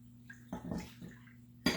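Milk poured into a 4-cup microwavable bowl holding sauce mix, a soft splashing pour in short bursts with a sharper splash at the end, close and fairly quiet.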